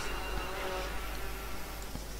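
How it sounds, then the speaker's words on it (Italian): Wasps buzz steadily in a jungle setting, a continuous close drone blended with dense background hiss and insect noise, no one talking. "Dannate vespe."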